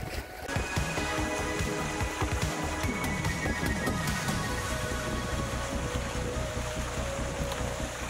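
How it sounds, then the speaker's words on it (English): Sailing boat moving through wind on a fjord, with a steady broadband rush of wind noise and water against the hull, close and continuous with no talk. "Wind picks up more and more during my sailing."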